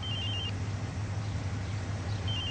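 A phone rings with a short electronic tone, once at the start and again at the end, over a steady low room hum.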